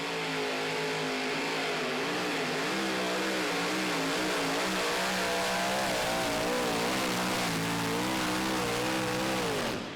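Super modified two-wheel-drive pulling truck engine screaming at high, steady revs through a full pull at a pulling league event, loud and continuous with rising and falling pitch as the load changes.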